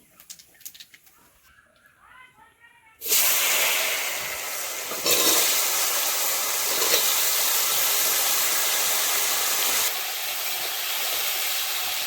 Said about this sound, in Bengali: এখন তেলে ভেজে নেব।